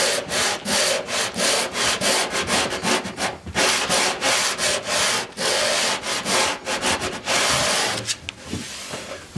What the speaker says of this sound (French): C'est pas un réel ponçage, c'est presque plus du nettoyage.